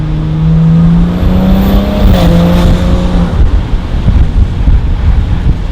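A car engine fitted with a Vargas aftermarket air intake roars close by with a rising whooshing intake tone, then fades into rumbling road and wind noise.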